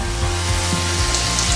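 Dal poured into fried masala in a hot pan for dhaba-style dal tadka hisses and sizzles loudly and steadily at close range, with faint stirring scrapes and no voices.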